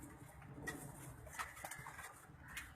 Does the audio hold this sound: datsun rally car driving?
no